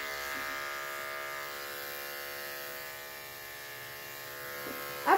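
Electric clippers shaving short pile faux fur give a steady, close, even buzz throughout, with a brief louder brush of contact at the very end.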